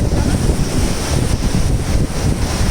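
Ocean waves crashing hard at Rock Beach, Pondicherry, a steady loud roar of surf churning without pause, with heavy wind buffeting the microphone throughout.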